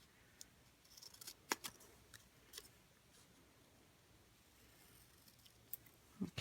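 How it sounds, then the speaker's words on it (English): Faint scattered snips of scissors cutting cardstock at a quiet table, a few sharp clicks spread unevenly over several seconds. "If you can't, just use your scissors."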